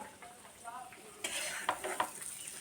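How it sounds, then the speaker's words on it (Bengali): Fried radish is lifted out of a pan of oil. Soft sizzling runs throughout, and a spatula scrapes and clinks against the pan several times. "মূলোটা দেখুন কেমন সুন্দর লাল করে ভাজা হয়েছে। আমি এবার তুলে নেবো।"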